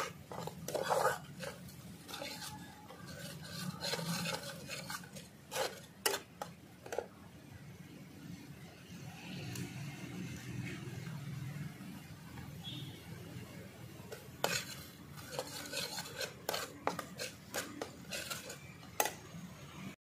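Spices for jackfruit kofta curry stirred and sautéed in a pan, with repeated metal spoon scrapes and taps against the pan in irregular bursts and a soft sizzle beneath, close and fairly quiet.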